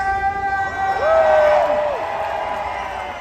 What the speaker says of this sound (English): I need to hear this crowd one more time.